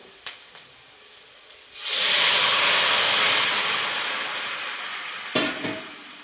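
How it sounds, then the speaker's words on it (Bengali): Potato broth is poured into a pan of fried onions while cooking a rohu fish curry with potatoes, setting off a sudden loud, close hissing sizzle that swells and then slowly fades, with faint clinks before and after. "পেঁয়াজগুলো আমার ভাজা হয়ে গেছে। এবার আমি আলুর ঝোলটা ঢেলে দেবো।"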